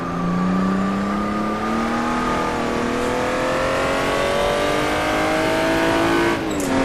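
A Jaguar D-type race car at Goodwood roars steadily at close range, its engine note rising smoothly through the gears with a brief shift near the end, loud and continuous with no voices.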